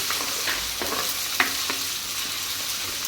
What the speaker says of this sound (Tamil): நாம் இடித்து வச்சுக்கிற இஞ்சி பூண்டும் சேர்த்துக்கலாங்க இதையும் சேர்த்துட்டு நல்லா மிக்ஸ் பண்ணிக்கலாம்